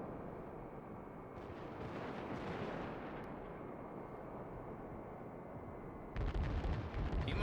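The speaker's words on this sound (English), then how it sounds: "he's gonna return the broadside" Heavy naval gunfire booms in World of Warships as battleships USS New York and IJN Kongo trade broadsides, a loud rolling blast rumbling on and fading, with a second sharp, loud burst of shots near the end.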